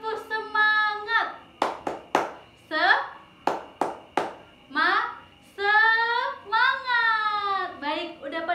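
A classroom of schoolchildren performing a rhythmic clapping chant led by their teacher: sharp group claps in patterned bursts alternate with the teacher's sung and spoken calls and the children's voices.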